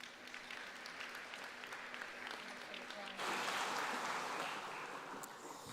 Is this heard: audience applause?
yes